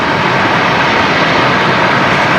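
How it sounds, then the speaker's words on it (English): A fixed-wing airliner departs Brisbane Airport, its engines producing a loud, steady broadband roar that fills the whole clip with no pauses. "All right, next aircraft to depart here"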